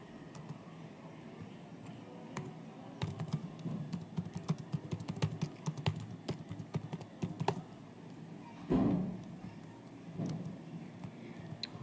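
Computer keyboard typing during a Roblox game, a quick run of faint clicking keystrokes in irregular bursts with a couple of louder thumps, fairly close and without talk.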